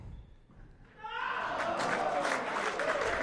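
A crowd at a professional squash championship match bursts into sustained applause and cheering that swells after a quiet opening and then holds steady, loud and full.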